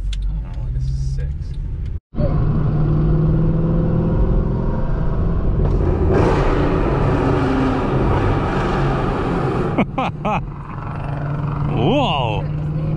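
A Nissan VQ engine sounds out as a loud, sustained rumbling exhaust drone, heard from close range with a brief cut partway through and swells in revs. Voices talk over it near the end.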